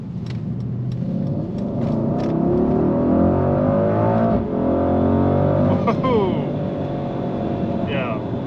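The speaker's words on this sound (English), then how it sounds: "So I'm going to hammer the throttle and see how this thing accelerates." A 2023 Mercedes-AMG GLE 63 S pulls away from a green light at full throttle, its engine roaring and climbing in pitch from inside the cabin, with voices talking over it.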